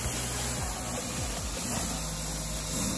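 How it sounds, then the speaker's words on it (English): A Sunjo SPX 3200 pressure washer rinses a car during a touchless wash, giving a steady, loud, broadband hissing spray that holds constant with no pauses. "I'll start by rinsing off the car."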